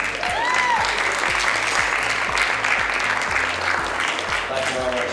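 Restaurant awards crowd breaks into loud, continuous applause for the hotel's food and beverage manager, dense clapping carried over a steady thumping low beat of background music, with some voices in the mix.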